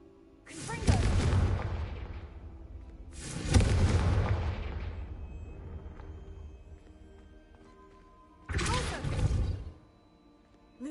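Three loud, booming blasts from the Confringo blasting spell in a Hogwarts video game, each with a sharp onset and a rumbling decay, spaced a few seconds apart with quieter gaps between them.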